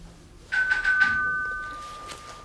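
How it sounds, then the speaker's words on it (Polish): Doorbell ringing indoors, a sharp electronic chime with a couple of quick tones that sustains and slowly fades over about two seconds, followed by faint thumps, with no speech. "Dzwonek!"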